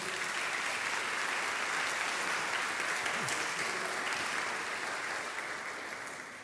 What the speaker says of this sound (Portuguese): Aplauda o Senhor mais uma vez aí